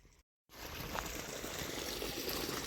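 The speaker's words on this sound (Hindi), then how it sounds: "पानी चल गया है खेत में" Irrigation water flows from a pipe into a dry farm field, a steady, soft rushing hiss that starts after a brief moment of silence and continues evenly, faint and close.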